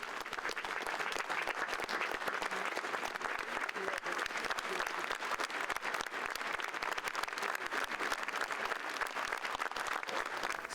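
Mourners applaud continuously as an actress's coffin is carried out of the Kote Marjanishvili Theatre during her civil funeral, a steady, rather distant wash of many hands clapping.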